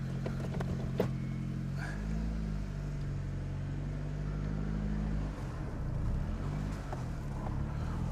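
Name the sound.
Nissan Primera P12 car engine running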